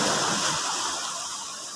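Big ocean waves wash and roar steadily at a coastal handline fishing spot, a broad, continuous rush of surf that eases slightly toward the end.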